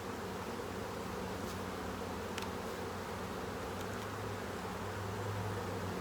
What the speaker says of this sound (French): Donc, voilà, je secoue les abeilles.